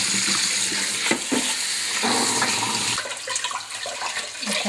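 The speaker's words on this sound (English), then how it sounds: "I'm gonna just take it to my sink and give it a rinse" Beef rinsed under a running tap in a kitchen sink, water splashing and gushing over the meat with clattering handling noises, loud at first, then easing into scattered drips and splashes.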